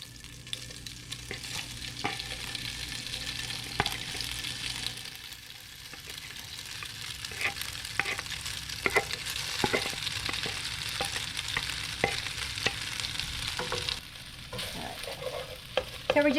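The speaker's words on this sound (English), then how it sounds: "So we're just going to toast up the pasta a little bit." Dry pasta toasts in a hot pan with a constant close sizzle and frequent scraping stirs and taps of a utensil, continuing steadily without talk.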